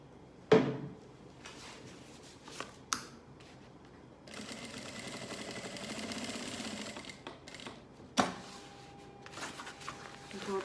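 A sewing machine stitches around a fabric lab-coat holder with pins in place, its rapid mechanical whir running steadily through the middle stretch, set among sharp handling clicks and knocks, with bursts of speech around it.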